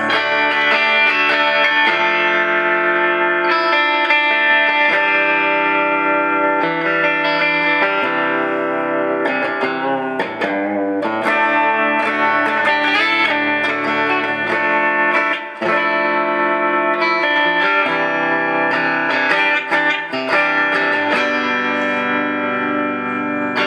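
Harley Benton TE 80 NT electric guitar played through the bridge pickup, a sustained run of clean, bright chords and melodic phrases with light effects and reverb, steady and loud for over twenty seconds with no talking.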